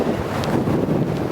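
Wind buffets across an exposed seaside golf course at Nefyn Golf Club in Wales, a loud, steady low roar that rumbles against the microphone throughout.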